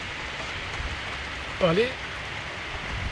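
Rain falls on a Paris street in the evening, a faint, steady patter with a brief voice speaking over it partway through.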